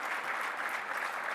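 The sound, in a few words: applause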